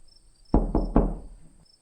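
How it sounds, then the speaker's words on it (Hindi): Three firm knocks on a door, close and loud, evenly spaced in quick succession against a faint high electronic whine. "तभी दरवाजे पर दस्तक होती है।"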